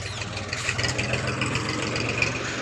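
A tractor engine arriving through a farm gate, a steady low chugging idle with a rhythmic throb, fairly close and moderately loud, with no talking.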